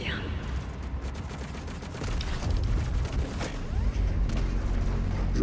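The BFG 10000 fires in the video game Doom Eternal, a dense, rumbling barrage of blasts and booms that swells louder toward the end and is heard alone without talk.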